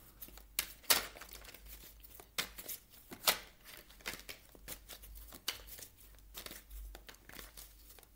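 Tarot cards being handled and laid down, with soft papery crinkles, slides and light taps in scattered bursts, close and fairly quiet, with no talking.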